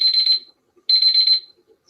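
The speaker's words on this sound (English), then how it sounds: "that's my 2-minute timer." A two-minute countdown timer alarm sounds at a board meeting, giving loud, shrill electronic beeping in repeated bursts of about half a second, with short pauses between them, and no talking over it.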